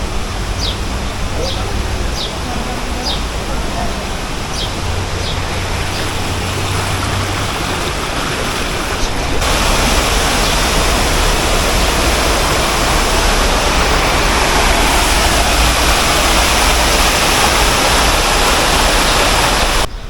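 A waterfall in a park in Antalya pours in a steady, loud wash that fills the whole scene. Short high chirps rise above it early on, and a voice talks faintly under the roar.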